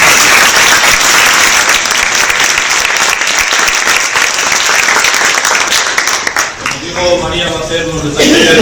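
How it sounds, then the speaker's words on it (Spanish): Loud, dense audience applause at a talk on Asturian jet (azabache), sustained and close, fading near the end as voices begin. "Y tenemos a María, un aplauso."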